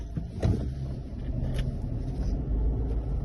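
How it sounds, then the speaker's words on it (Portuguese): A 2024 VW Polo Track cruising above 100 km/h with its engine around 3,000 rpm, heard as a steady, low road-and-engine rumble with wind noise inside the cabin and no talking. "Você escuta muito pouco o barulho do motor, principalmente em altas rotações."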